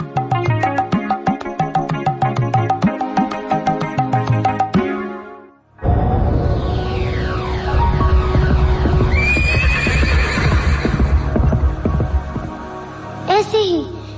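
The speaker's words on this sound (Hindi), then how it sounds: "यही आवाज थी हमारे उड़ने वाले घोड़े की" A flying horse in a radio story whinnies: after a rhythmic musical passage and a short pause, a loud neigh with falling, wavering pitch rings out over a busy background, ending in a final high whinny.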